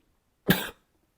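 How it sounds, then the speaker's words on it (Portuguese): A single short, sharp cough bursts out close and loud in an otherwise quiet moment, then stops. "E eu não paro de tossir."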